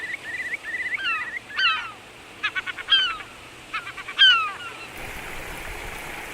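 Honking calls of grey geese at the Braslav lakes, a nesting ground for rare birds, come in several short bursts of repeated notes over a steady outdoor hiss, clear and moderately near.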